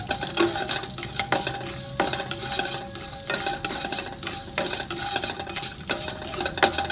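Cashews and raisins fry in a pan for Janmashtami panjiri, with steady crackling sizzle and repeated scraping stir strokes of a spoon against the pan throughout, no voices.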